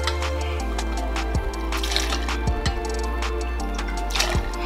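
Vodka is poured for an apple martini as a close, gurgling stream of liquid with a few small clinks and knocks from the bottle and glassware.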